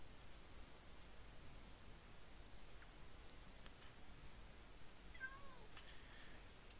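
A tamed ocelot turned house cat in a video game gives a few faint, thin meows over a steady hiss of background static.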